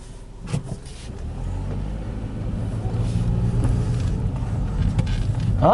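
A car backing into a parking spot on a residential street, its engine a low steady rumble that grows slightly louder, with people talking over it inside the vehicle.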